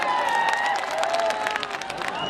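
An audience at a Bhojpuri stage show claps and cheers, a dense burst of applause from a crowd with music tones and voices mixed in underneath.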